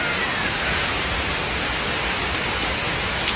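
Steady, dense rain hisses without a break, an even wash of drops with no voices.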